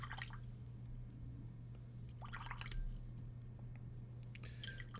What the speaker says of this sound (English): Just rinse it with water a bunch of times.